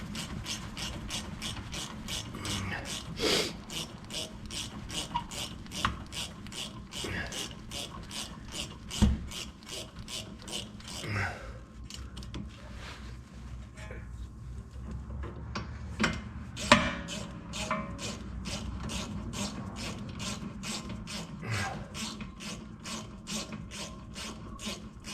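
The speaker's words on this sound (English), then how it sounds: "These swivel head ratchets are nice when you get into tight areas like this." A swivel head ratchet clicks in rapid, regular bursts while working on the rear brakes of a 2012 Mazda 3, with a brief pause mid-way and faint handling noise, fairly quiet and close.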